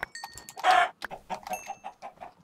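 Clucking chickens in Minecraft, a busy run of short calls from several nearby birds with one louder squawk early on, no talk over them.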